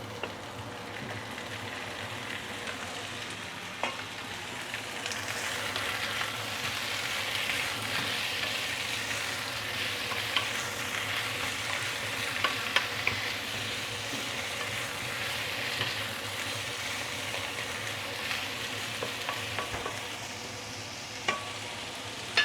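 Marinated fish head frying in a hot wok gives a steady, dense sizzle throughout, with occasional small pops and scrapes, fairly soft and without voices.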